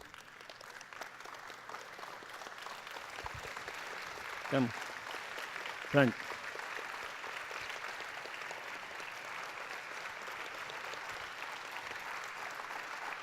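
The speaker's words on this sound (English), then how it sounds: "I request everybody to stand up and give a big clap to all our masters." Audience clapping for the masters at the inauguration of the Global Festival of Spiritual Sciences, a soft, steady patter of applause in a hall while a man calls people forward, with a couple of louder thumps.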